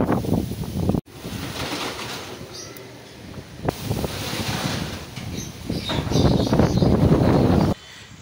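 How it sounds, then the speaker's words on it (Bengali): Loud, gusting wind from Cyclone Remal roars and buffets the microphone almost continuously, surging in waves and briefly cutting out twice, growing stronger toward evening. "যত সন্ধে হচ্ছে, তত কিন্তু হাওয়ার গতিবেগ কিন্তু আরও কিন্তু বাড়ছে"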